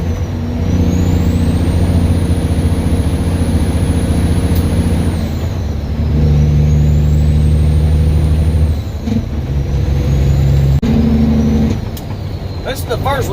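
A log truck with an 18-speed transmission works through its gears on back roads, its diesel engine droning steadily with pitch changes at each shift and a short hiss of air. Someone talks over the noise.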